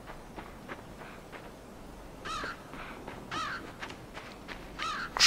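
Crows cawing in the dark forest of the game Limbo, several harsh caws at irregular intervals over a faint rustling ambience, moderately close and without any talk.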